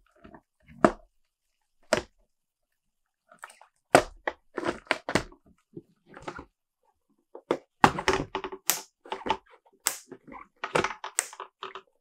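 Panels of a drop front sneaker storage box click into place, giving a few sharp, isolated plastic snaps, then a denser run of clicks and handling rustle close by.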